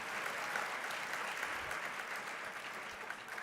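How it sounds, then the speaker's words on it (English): A gala crowd at a colorectal cancer research fundraiser applauds a $10,000 donation, a continuous dense wash of clapping heard from some distance and fairly soft. "Huge round of applause."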